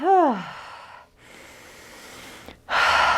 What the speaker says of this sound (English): Take a couple cleansing breaths or a couple cleansing sighs, breathing in through the nose, out through the mouth.